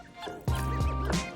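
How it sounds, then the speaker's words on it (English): Rinse water pours and splashes out of soaked Irish sea moss being drained, a close burst of liquid dribbling and squishing that lasts about a second. "Let's drain the water."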